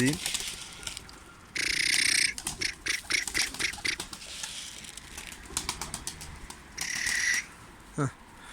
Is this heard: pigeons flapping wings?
yes